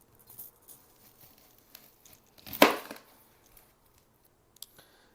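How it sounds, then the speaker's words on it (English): A knife slices an onion lengthwise on a board, one crisp loud cut amid faint quiet taps and rustles. "cut the onion long ways"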